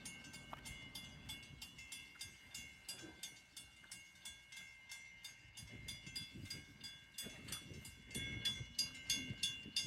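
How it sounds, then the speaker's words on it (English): At a level crossing near Welshpool station, a train rumbles faintly in the distance while a steady, regular pulsing alarm repeats throughout and a brief horn-like tone sounds. "we're gonna get a good shot of the level crossing closing in a second, with the Thorny trains coming through"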